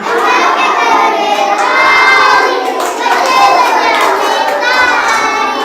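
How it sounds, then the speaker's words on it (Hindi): Crowd of children clapping during a Hindi alphabet song, with loud continuous claps mixed with shouting and cheering voices throughout. "बच्चों बजाओ ताली।"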